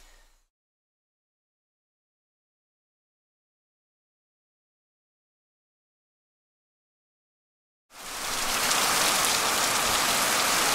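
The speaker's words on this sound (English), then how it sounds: "Rainforests get about 100 inches of rain a year." Long silence, then heavy rain starts abruptly in an Amazon rainforest in Ecuador and pours steadily in a loud, even hiss to the end.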